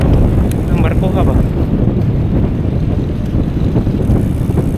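Strong wind buffets the microphone with loud, steady roaring rumble while a bicycle crosses the long CCLEX bridge in Cebu, with voices briefly audible beneath the gusts.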